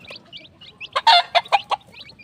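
Pet chicks in a small backyard coop chirp and cluck while being fed grain, light high peeps followed by a short burst of louder, closer clucking calls.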